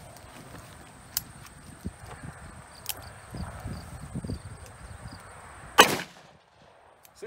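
A single loud gunshot cracks out near the end, fired at a Yugoslavian M89 Kevlar helmet during an outdoor ballistic test, preceded by quiet shuffling and clicks with steady insect chirping in the background.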